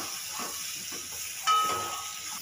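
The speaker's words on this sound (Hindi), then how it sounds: "अब इसमें शिमला मिर्च छोड़ दीजिए इसे शिमला मिर्च को सिर्फ दो तीन मिनट के लिए भुनना है" Capsicum (bell pepper) frying in a pan gives a steady, close hiss and sizzle that runs throughout, with a brief louder burst partway through.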